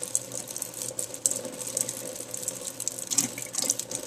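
Tap water runs steadily into a sink while a Bengal cat drinks from the stream, a close, continuous splashing trickle with small irregular bursts and faint lapping clicks.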